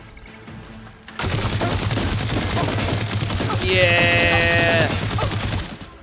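A minigun in Horizon Forbidden West fires a sustained rapid stream of shots for about four and a half seconds, loud and steady, with tonal mechanical whine on top and a short shout from a voice.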